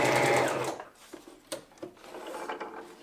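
Necchi C35 sewing machine stitching a full-width zigzag, a quick burst of rapid mechanical clatter at the start, followed by quieter intermittent clicks and whirring.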